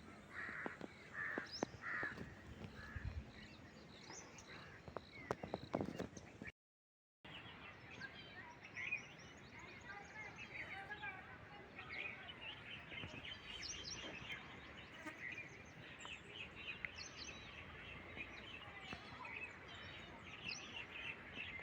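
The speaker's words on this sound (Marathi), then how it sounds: "पक्ष्यांचा आवाज ऐका फक्त तुम्ही." Crows caw repeatedly outdoors in a rural village during rainy weather, with other birds chirping in the background, a brief silent gap partway through.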